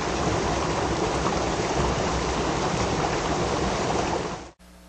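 Water runs steadily from a Jupiter water ionizer, a dense, even rushing stream that continues loudly for several seconds and then cuts off abruptly, leaving faint background noise.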